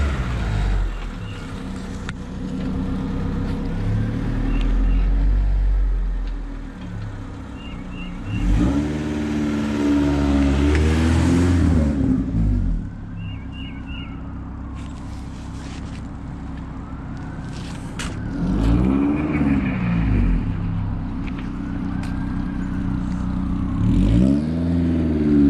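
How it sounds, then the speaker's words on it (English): A Honda-swapped Mini Estate accelerates on a short run, its engine rising in pitch through a couple of loud surges, then easing and building again, close by. "Do another short acceleration run."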